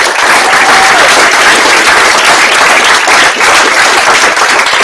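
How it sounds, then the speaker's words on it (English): A dense round of applause fills a hackathon final presentations event, loud and steady from start to finish, with many hands clapping together and no voices standing out. "give yourselves a round of applause"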